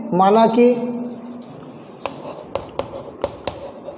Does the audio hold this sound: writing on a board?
yes